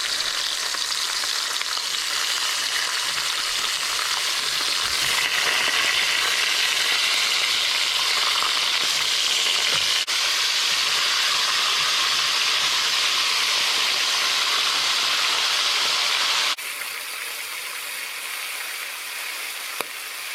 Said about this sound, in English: giving them a little bit of a brown up in this casserole pot